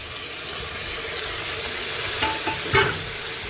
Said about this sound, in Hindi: प्याज भुन चुके हैं, अब इसमें टमाटर डालेंगे।